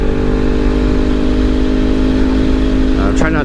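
A Kawasaki Ninja motorcycle riding on US 28 in North Carolina, its engine droning steadily and loudly with a constant hum under wind noise, tires nearly bald.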